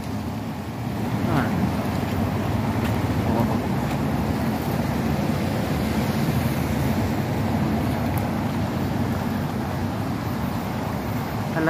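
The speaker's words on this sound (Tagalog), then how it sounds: "Taas talaga ng ulan." Heavy rain pounding on a car during a downpour at a traffic light, a dense, unbroken roar that stays loud and even throughout, heard from inside the cabin.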